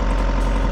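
A diesel digger engine that has sat unused, just restarted after air was bled from its fuel filter, idles through warm-up with a loud, close, steady low rumble.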